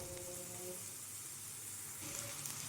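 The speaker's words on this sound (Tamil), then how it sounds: "கேரட் வந்து ஓரளவு மீடியமாக வதங்கட்டும்" Grated carrot sautéing with onions in a pan for carrot rice, giving a steady, soft sizzle throughout with a few faint tonal clinks, no talking.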